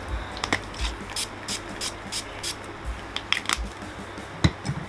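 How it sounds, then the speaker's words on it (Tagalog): A bottle of NYX makeup setting spray is pumped onto a face in a series of short, sharp hissing bursts with irregular gaps. The sprays are close and crisp against faint background noise. "Isiset ko lang siya nitong setting spray ko from NYX."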